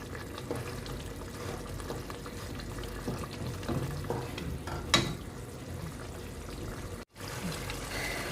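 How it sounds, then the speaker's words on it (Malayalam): Ginger curry (puli inji) for a Kerala Onam sadya cooking down on a medium flame, a steady close bubbling and soft sizzling with faint stirring, one brief sharp clink midway and a short dropout near the end. "ഇത് നല്ലൊരു മീഡിയം ഫ്ലെയിമിൽ കിടന്ന് നന്നായിട്ട് കുറുകി വെന്ത് റെഡിയാവട്ടെ"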